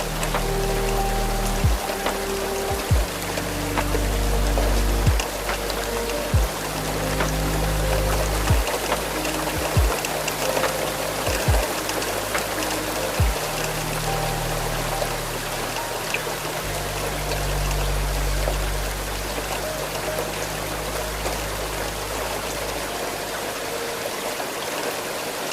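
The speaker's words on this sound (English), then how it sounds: "Let the sound of the rain come to you first." Heavy rain streams steadily over the glass of a night train crossing the Scottish Highlands, with a low rumble beneath and regular rhythmic clicks of the wheels running through the continuous wash of water.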